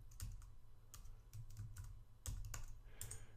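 Close, fairly quiet keystrokes on a computer keyboard as a Linux terminal command is typed, irregular clicks in short bursts with no talking.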